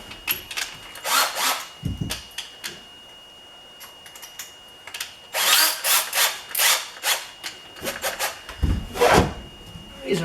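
Nut driver (5/16) backing out hex bolts from the rear deck of a Tracker Pro Guide boat, in irregular bursts of close rapid whirring and clicking separated by short quiet gaps.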